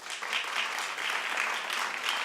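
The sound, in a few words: studio audience applause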